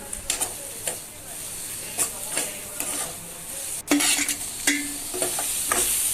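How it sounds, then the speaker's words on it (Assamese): Shredded cabbage stir-frying in a pan for vegetable chow mein, with repeated scraping strokes of a spatula against the pan over a steady sizzle, the stirring scrapes coming in irregular bursts close by. "এতিয়া মই ইয়াতে বন্ধাকবিখিনি দেখিছেনে এড কৰি দিছোঁ আকৌ লৰাই লৈছোঁ"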